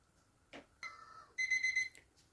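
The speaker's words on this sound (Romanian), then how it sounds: "A început ceasul să facă gălăgie, înseamnă că lichidul e gata." A kitchen timer alarm rings during preparation of an oxalic acid solution for anti-varroa strips. A brief tone is followed by a loud burst of rapid electronic beeping lasting about half a second, then it stops.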